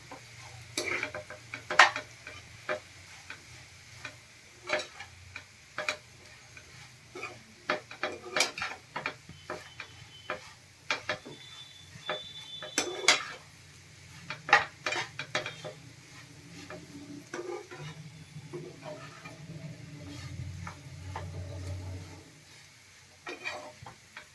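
A spoon stirs and scrapes crumbled garlic rotla in a pan, with sharp, irregular clinks and scrapes over a faint sizzle that grows a little louder near the end.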